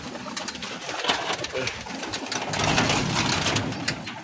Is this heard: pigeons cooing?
yes